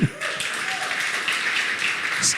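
A church congregation claps their hands together during a lively worship service, the dense patter of many hands filling the room at full volume and lasting throughout.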